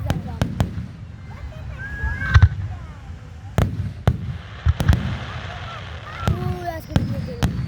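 Fireworks bursting at an outdoor summer fireworks and drone show in Trenton, Ontario, with sharp pops and booms at irregular intervals, some crackling and whistling trails, near and fairly loud, while spectators murmur in the background.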